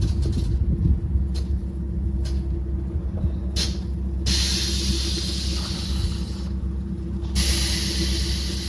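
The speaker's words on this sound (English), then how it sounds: "You can hear the compressors, the bags" A modded MK2 Volkswagen GTI on air ride suspension idles with a steady low engine hum while its compressor and air bags let out two loud, sustained hissing bursts of air, each lasting a couple of seconds.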